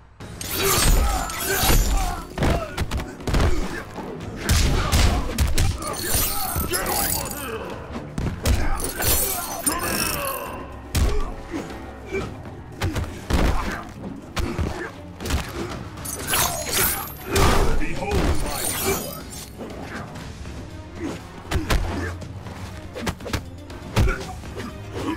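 Mortal Kombat X fight: dense thuds, whacks and shattering impacts come in rapid clusters with grunts and brief game voices, loud and continuous throughout.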